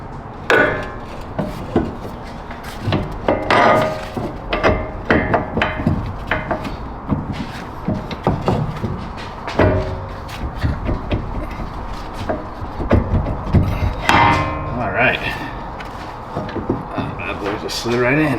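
A new axle slides into the hub of a Nissan 240SX S14 during an axle replacement, giving a run of close, irregular metallic knocks, scrapes and clunks over steady workshop noise.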